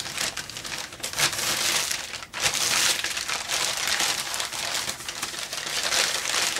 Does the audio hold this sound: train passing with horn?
no